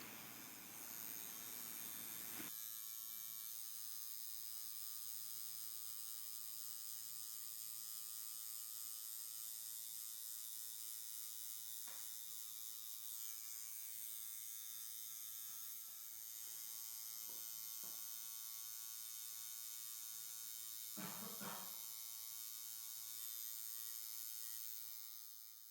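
Tattoo machine fitted with a shading needle, a steady electric buzz with a dense stack of harmonics running nearly unbroken, broken by a few brief clicks and taps, close and fairly quiet, no talking.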